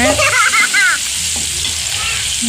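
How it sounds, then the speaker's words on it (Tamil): Ginger and garlic sautéing in a pan, a steady soft sizzle with occasional stirring scrapes, starting under a brief stretch of talk and then continuing alone at moderate, close level. "இஞ்சி பூண்டு போட்டு நல்லா வணக்குங்க"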